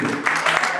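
Brief burst of congregational applause in a church, a quick wash of many hands clapping close by.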